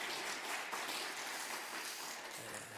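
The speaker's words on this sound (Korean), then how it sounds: "또 격려 박수해 주시면 좋겠습니다." A church congregation at a Sunday worship service claps in encouragement, a dense, even patter of hands held at moderate loudness for a few seconds without talk.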